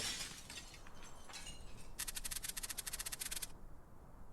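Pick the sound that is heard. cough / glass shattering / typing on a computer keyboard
glass shattering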